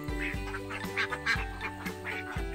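Ducks quack loudly and repeatedly on a duck farm raising egg-laying ducks, several birds calling over one another in overlapping bursts close to the microphone, with no talking.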